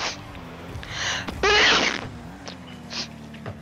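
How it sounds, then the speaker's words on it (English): A single loud sneeze from a gamer at his microphone bursts out sharply mid-clip, preceded by a short intake of breath, with faint clicks and background game hum around it. "That was a loud sneeze."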